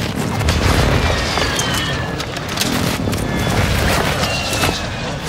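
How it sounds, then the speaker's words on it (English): Airstrike explosions in the shooter game Vondel, a dense run of heavy booms and rumbling blasts filling the whole stretch, loud and continuous with gunfire crackle mixed in. "That's my airstrike coming in."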